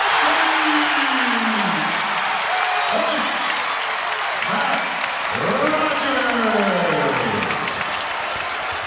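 Basketball crowd cheering and applauding at a Patriot League final game in Washington, D.C., a loud, continuous roar of clapping and shouting that swells in waves, with an announcer talking over it.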